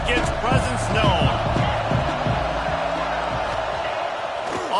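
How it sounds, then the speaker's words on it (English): A football stadium crowd roars and murmurs steadily throughout, a dense, loud wash of many voices, with a commentator talking over it. "This crowd ready to make its presence known."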